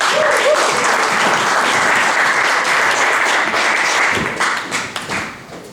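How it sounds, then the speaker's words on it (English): Loud, sustained applause from a stand-up comedy audience, dense clapping throughout that begins to thin out near the end. "Just put your hands together"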